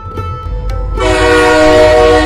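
A train pulls into a quiet village station: a low rumble builds, then a loud sustained horn with strong tonal bands sounds from about one second and holds to the end.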